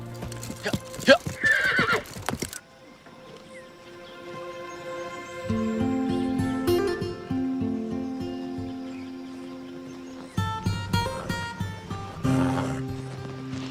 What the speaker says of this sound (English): Run these horses long enough.